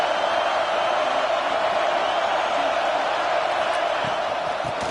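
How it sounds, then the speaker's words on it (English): At a football game, a big stadium crowd roars in a continuous, dense wash of noise that holds steady and loud throughout, with no distinct voices standing out. "The roar of the crowd trying to fuel this defense to keep them pinned in their own end"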